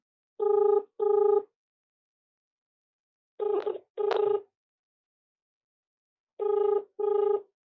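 A telephone ringing in three clear double rings spaced by silence, close and loud with nothing else heard.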